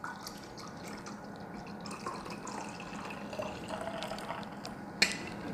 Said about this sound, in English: you're wanting to oxygenate your mead, pour this back in. Let it splash around